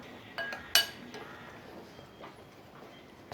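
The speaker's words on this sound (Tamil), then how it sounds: "சேர்த்துட்டு இது நல்லா கலந்து விட்டுற வேண்டியதான்" A spoon mixes spicy raw banana (vazhakkai) fry with salt in a pan, making a few quick metallic clinks and taps against the pan, then quiet faint scraping over low background noise.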